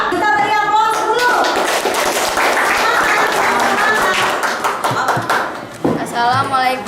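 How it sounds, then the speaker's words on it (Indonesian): A middle school class gives a round of applause, a dense burst of clapping from many hands that tapers off, with voices talking over it. "Kita beri aplaus dulu"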